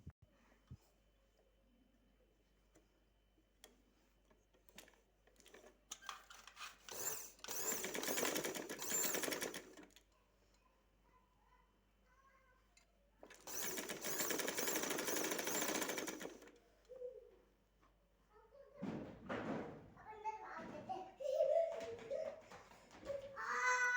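A sewing machine stitches lace onto a shirt in three separate runs, each a few seconds of dense whirring. Quiet pauses and handling noises fall between the runs.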